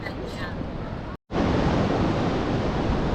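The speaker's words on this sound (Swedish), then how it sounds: "det är nog att vågorna går" Ocean waves breaking on a beach in northern Spain, a loud steady roar of surf with wind buffeting the microphone, broken by a brief moment of silence before the wash resumes.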